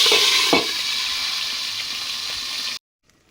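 A boal fish head fries in a covered pan, giving a steady loud sizzle with a brief stirring clatter early on, then stopping abruptly into near silence.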